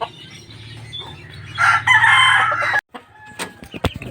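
Chickens on a backyard coop cluck and crow close by, loud layered bird calls with a rooster crow rising midway, then scattered short clucks.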